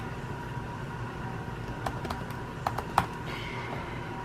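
Quick, light keystrokes on a computer keyboard while entering words to size on an item, a handful of sharp clicks over a low steady background hum.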